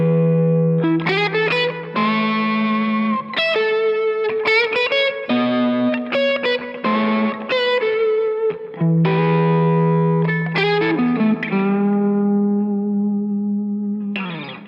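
A distorted electric guitar plays a solo melody alone, with sustained bending notes and quick phrases, loud and continuous with effects-laden tone.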